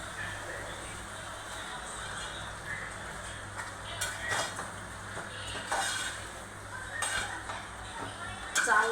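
Raw mutton being sautéed in a pot, with faint frying hiss, intermittent metal clinks and scrapes of a spoon against the pot, and a low steady hum underneath; the sound is soft and close.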